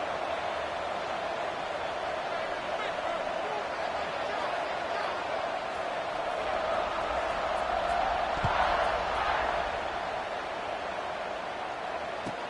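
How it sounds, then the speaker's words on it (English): Stadium crowd noise from a college football video game, LSU at Notre Dame, a steady broad roar and buzz of fans swelling slightly near the end, with a commentator talking over it. "this crowd is buzzing after that last score"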